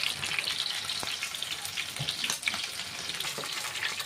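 Food frying in a pan on a gas stove at medium flame, giving a steady, hissing sizzle with occasional faint pops and crackles throughout.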